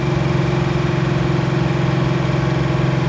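A 1969 Chevrolet Chevelle convertible's engine drones steadily and loudly from inside the car, a deep even hum that holds without change.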